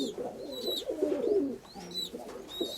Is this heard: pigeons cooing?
yes